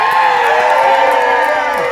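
A large crowd on the front lawn of Graceland cheers and whoops throughout an Elvis Presley birthday celebration, a loud sustained roar of voices with scattered clapping.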